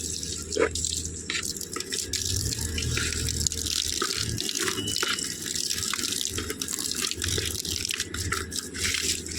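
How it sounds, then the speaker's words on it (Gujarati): Water runs continuously from a garden hose with splashing and dripping, a steady gush close by, with no talking. "3 વાગે આપણે પાછળ પાણી ચાલુ કરી દીધું."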